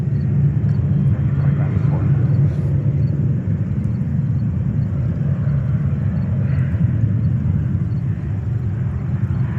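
A Delta Boeing 767-300 jet arriving from Copenhagen and landing at JFK, New York, heard as a loud, steady broadband roar and rumble that holds for the whole stretch without letting up.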